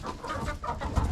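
Chickens cluck in a farm yard during feeding, a busy overlapping chatter of soft low clucks at close range with no talking.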